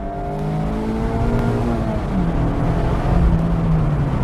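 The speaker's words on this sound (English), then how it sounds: "the downshift rev match, the heel and toe rev match" A manual car's engine revs during a heel-and-toe downshift rev match, its pitch sweeping down and up through gear changes, loud and close with no talking.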